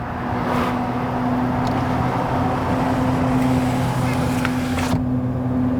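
A wrecked and repaired 2021 Ford F250 Super Duty on a test drive, its engine and road noise forming a loud, steady cabin drone with a few faint clicks.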